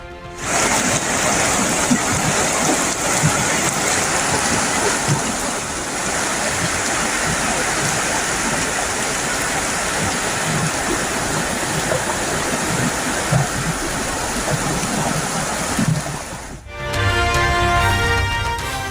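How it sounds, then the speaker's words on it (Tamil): A river swollen by heavy rain rushes in flood: a loud, continuous roar of churning water that fills the whole stretch, with a brief shift in tone near the end. "சாலை ஆற்று வெள்ளத்தில் அடித்து செல்லப்பட்டதால் தடை"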